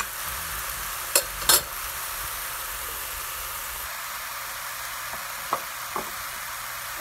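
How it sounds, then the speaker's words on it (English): Mushrooms searing in the bottom of a pan, cooked for pesto shrimp with riced cauliflower, give a steady close sizzle. A few sharp clinks from utensils break through, and no one speaks. "And my mushrooms, I like them to have a little bit of a sear to them."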